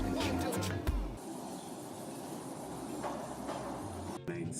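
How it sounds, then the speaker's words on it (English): London's Mail Rail, a small former postal underground train now carrying riders, rumbles steadily through a tunnel with a dense low roar and metallic clatter, loud and continuous with a brief sharper clunk near the end. "Jesteśmy w metrze pocztowym."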